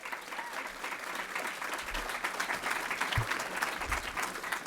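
An audience at an awards ceremony applauds steadily throughout, a dense, even wash of clapping heard from within the room.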